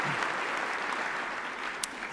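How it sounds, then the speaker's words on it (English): An audience at a 2014 State of the City address in Oklahoma City gives Chamber staff and board a steady round of applause, a dense, even wash of many hands clapping throughout, with no voices standing out. "let's give a big round of applause"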